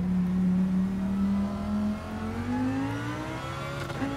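Race car engines roar in Gran Turismo 7 on PSVR2 online multiplayer, a loud steady engine drone holding pitch then climbing as the car accelerates, with a brief shift near the end and no talk.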